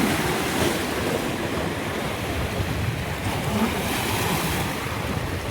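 Sea waves at a beach in Surat, a continuous loud wash of surf mixed with gusty wind buffeting the microphone, rolling steadily with slight swells and no voices.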